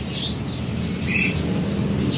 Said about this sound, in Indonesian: Ada juga perenjak atas ya di kandang ini.